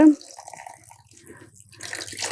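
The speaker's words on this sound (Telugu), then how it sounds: "ఇప్పుడు వాటర్ వేసుకుందాం." Water splashing and pouring into a pan of coconut tomato curry close by, starting soft and swelling into a steady rush near the end.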